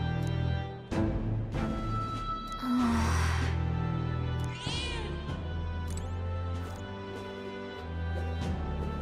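A cat meowing in the video game Metaphor: ReFantazio, a few drawn-out meows over steady game music and ambience, moderately loud, with no talking.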